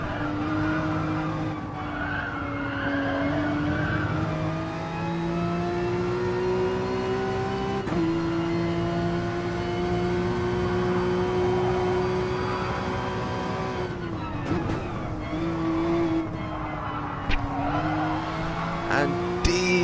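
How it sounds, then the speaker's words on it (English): Porsche race cars battle in an eDTM sim racing game, engines droning at high revs with rising and falling pitch as they shift, tyres squealing and skidding in bursts, close and sustained throughout. "And Deej and Torsten battling it out in the battle of the Porsches here."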